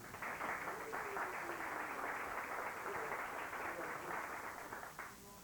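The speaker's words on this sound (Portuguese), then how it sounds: "Pedir uma salva de palmas para a pessoa que acabou de chegar, Cairo Verdade" An audience claps steadily to welcome Cairo Verdade, the applause sounding somewhat distant and even, holding for several seconds before tapering off near the end.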